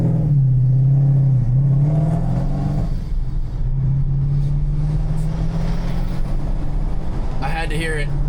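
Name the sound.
car engine revving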